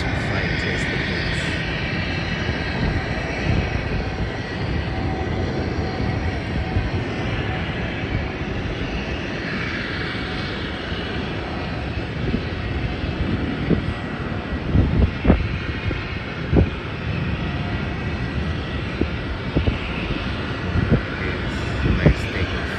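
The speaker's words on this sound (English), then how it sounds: "Before that, the Singapore Airlines flight is taking off." A Singapore Airlines passenger jet takes off, its engines building into a broad, sustained roar that swells and rumbles for a long stretch, with a person talking over parts of it.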